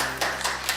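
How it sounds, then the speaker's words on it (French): Brief classroom applause from a few schoolchildren, three or four distinct claps spaced evenly, close and moderately loud, no talking. "on applaudit s'il vous plaît"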